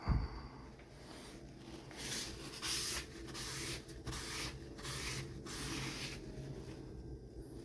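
Rust being wiped from the cast-iron table of a Delta jointer with a cleaner and cloth, repeated rhythmic rubbing strokes, soft and close, with a faint thump at the start.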